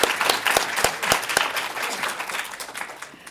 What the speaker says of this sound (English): A big round of applause to all of our winners.